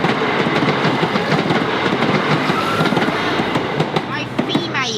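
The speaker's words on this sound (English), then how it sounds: "Oh, it's an actual train." A train rumbles past close by with rhythmic clickety-clack of wheels on rails, loud and continuous, with faint squeals near the end.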